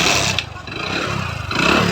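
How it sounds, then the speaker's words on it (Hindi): A rebuilt Hero Splendor motorcycle engine running close by, a loud, steady rough idle with a faint mechanical clatter, briefly dipping in level midway. "यहाँ पे आप इंजन की साउंड देखें। इंजन की जो साउंड है दोस्तों, बहुत मस्त साउंड आया है।"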